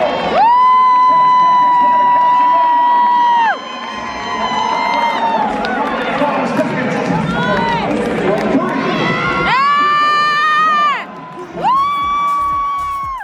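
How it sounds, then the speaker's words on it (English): Crowd cheering and shouting encouragement for an athlete at the CanEast Games 2022 CrossFit competition, a loud sustained roar with whoops and shrill sustained voices rising and falling, peaking near the start, middle and end. "I did not get it and was so overwhelmed with everyone cheering me on"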